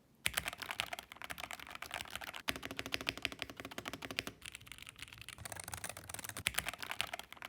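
Continuous quick typing on a 2600-hryvnia mechanical keyboard with linear switches, many close, even key clacks in a busy rhythm with barely any breaks.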